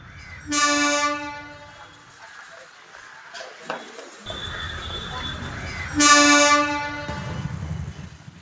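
A train horn sounds twice, loud and sustained, at a railway level crossing in Minjur, with the rumble of a passing train and traffic noise in between.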